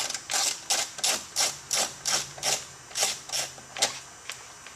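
A power tool whirs in short, regular bursts while removing screws from a Bose speaker enclosure in a Chevrolet Corvette C3, about a dozen sharp pulses close up with brief gaps, no voices.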